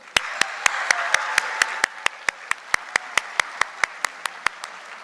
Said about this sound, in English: please join me in a big round of applause for American Fidelity